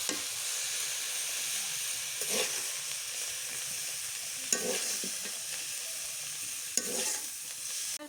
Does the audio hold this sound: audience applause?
no